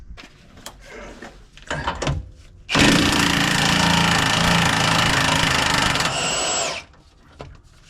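Impact gun removing a sway bar end link on a Prevost coach, a loud sustained burst of about four seconds that stops abruptly, preceded by clanks and handling noises.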